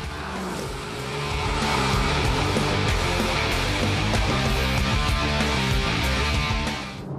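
Porsche Cayman S mid-engine sports car sweeping through a curve, the engine note loud and sustained with tyre squeal, building after a quieter start and easing off at the end.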